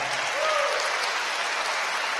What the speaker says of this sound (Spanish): Démosle palmas al Señor.